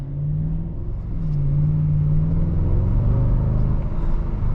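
Engine of a 2007 Mercedes-Benz SL55 AMG droning and building in a low, rumbling rev up close, steady and strong throughout with no one talking.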